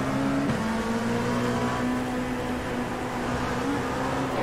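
A sim-racing race car's engine from onboard, a sustained loud drone with steady tonal harmonics and a brief dip as the revs shift, running without talk.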